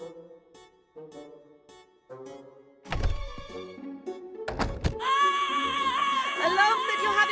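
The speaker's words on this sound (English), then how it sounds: "I love that you're having fun with our doorbell" A doorbell in the video game Prim chimes in a few soft tonal notes, then heavy thunks hit, followed by a loud, sustained ringing, buzzing tone that runs to the end, with no talk.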